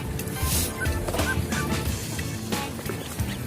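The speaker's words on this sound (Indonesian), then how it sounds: "Loba bebek." Ducks and muscovy ducks call outdoors at dusk, a scatter of quacks and hoarse honks rising over a noisy, breezy background with faint voices.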